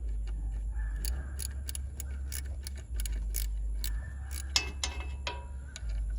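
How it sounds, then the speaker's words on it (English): A ratchet wrench being worked during air conditioner repair on a Hino 268 box truck, giving a series of quick metallic clicks and ticks in uneven bursts over a steady low engine or shop hum. "It's a ratchet wrench."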